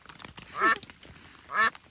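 A rare wild female duck near a trail shelter in the Great Smoky Mountains gives two raspy quacks about a second apart, close and clear over quiet outdoor background, with no talk.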